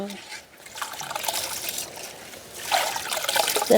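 Rice being washed by hand in water outdoors in a village setting, with soft trickling, swishing and splashing that grow louder toward the end, fairly close, while a voice talks over it.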